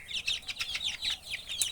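Layer chickens cluck in a quick run of short, faint calls, repeated evenly for a couple of seconds with no talking over them.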